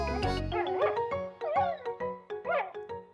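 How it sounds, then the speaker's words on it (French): A small cartoon female dog in a Miffy episode gives a quick series of high, bouncy yips and little whimpers, close and clear, one after another. "Snuffy, la petite chienne."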